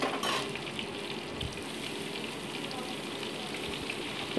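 Chopped onion frying with potatoes in a pan for an egg soya curry, a soft steady sizzle with a brief stir near the start, faint and alone.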